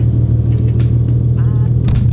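A Nissan 370Z with an automatic transmission holds a steady two-step rev at 4,000 rpm, a loud, close, constant low engine drone with brief overlapping voices.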